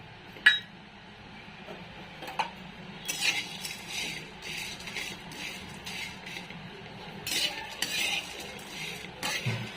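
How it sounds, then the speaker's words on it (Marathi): Whole garam masala spices are dry-roasted and stirred in a pan, producing soft rattling and scraping with an occasional metallic clink from the utensil. "आता आपल्याला हा खडा मसाला ना भाजून घ्यायचा चांगला"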